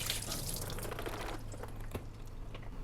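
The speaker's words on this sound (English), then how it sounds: "Let me dump out the water in there." Water is dumped out of the tank of a HoMedics warm and cool mist ultrasonic humidifier, giving a close, faint, continuous splashing and trickling that thins into a few drips.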